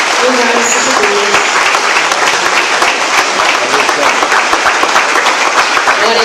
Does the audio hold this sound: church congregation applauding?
yes